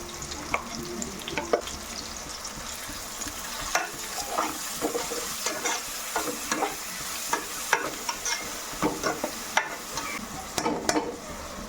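Onions fry in a pan with ginger-garlic paste, turmeric and salt for a village-style goat head curry. A soft sizzle sits under repeated scraping and clinking stirs of a spoon against the pan, close and uneven, with no voices.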